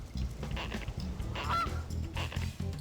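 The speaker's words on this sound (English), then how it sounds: "Is that a Canadian goose?" A Canada goose honks in a baseball video game during play at a beachside ballpark, several loud, nasal calls in a choppy rhythm that repeat close by over low game ambience.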